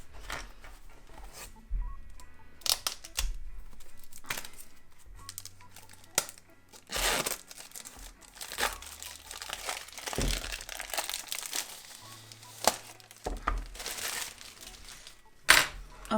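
Knife-opened packaging from a paper art supply box crinkles and crunches in repeated bursts, close up, with soft handling noises between them.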